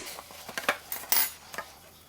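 Metal hooks clink as they are hung with pork for a pit barrel smoker: a series of short, bright metallic taps and rattles, close by and fairly loud, with no one talking.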